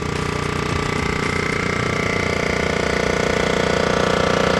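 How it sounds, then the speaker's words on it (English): A cylinder head surfacer makes its final pass over a Jeep 4.0 AMC cylinder head, a loud continuous machine drone with a fine rhythmic grinding chatter, close and unbroken throughout. "I just got the head of the surfacer."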